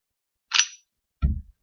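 A CO2 blowback Colt M1911 A1 airsoft pistol dry-fired, giving two sharp mechanical clicks about half a second apart, the first bright and snappy, the second a duller, lower slide-return clack, close and alone.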